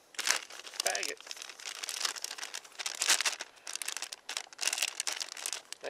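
Plastic bag crinkling and rustling in bursts close by as a water filter is bagged, with brief pauses between handling noises.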